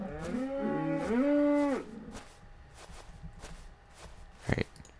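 Cows in Minecraft give a loud, drawn-out bellowing moo up close, followed by soft footstep taps and a brief sharp burst near the end.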